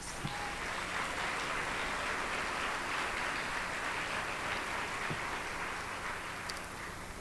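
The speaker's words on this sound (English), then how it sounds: "Would you give them a round of applause?" An audience at a medical school Match Day event claps in dense, sustained applause that stays steady throughout without a break, moderately distant.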